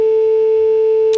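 A steady telephone line tone, like a dropped call, holds loud and unbroken for just over a second before cutting off with a short noisy click.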